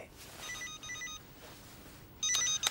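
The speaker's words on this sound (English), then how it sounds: "Oh, is that your phone?" Mobile phone ringing indoors in a Coronation Street scene: a repeating electronic ringtone with two short bursts, a pause, then a louder burst near the end, with no talk.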